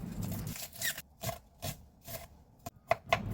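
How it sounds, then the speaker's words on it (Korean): A knife cuts a halved green onion into thin strips. Quiet, close scraping strokes repeat in a loose rhythm, with a few sharper taps near the end. "대파 한 뿌리는 반으로 잘라 가늘게 채 썰어줍니다."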